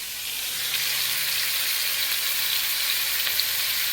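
Shrimp and squash frying in hot coconut oil, a steady close sizzle with broadband crackle holding evenly throughout, no voices.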